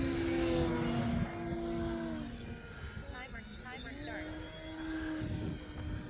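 A QQ Yak 55 model aerobatic airplane at an AMA flying field flies a loop, its propeller drone rising and falling in pitch as it passes, while a person talks over it.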